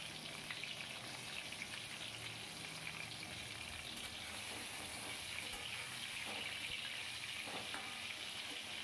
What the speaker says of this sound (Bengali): ধীরে ধীরে আমি পটলগুলো সমস্ত এইভাবেই আমি ভেজে নেব